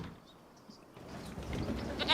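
Goats bleating in the Farming Simulator 25 video game, faint and brief calls over quiet farm ambience that grows busier toward the end, no voices.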